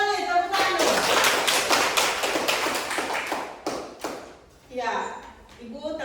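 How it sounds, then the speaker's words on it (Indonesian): A group claps hands together in an Indonesian classroom-style setting, steady close-up clapping that stops briefly before a short closing burst of claps with voices around it. "Ya, betul sekali. Tepuk tangan."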